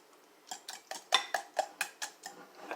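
Whisk or spoon clicking against a bowl while stirring a quiche mixture of eggs with a pinch of seasoning, about ten quick, evenly spaced taps, close and fairly quiet with no talking.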